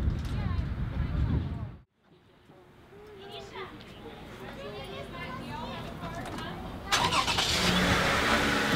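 Car pulling away from a Kingdom Hall after a wedding, engine sound building and passing nearby after a short pause, with people talking and children's voices throughout.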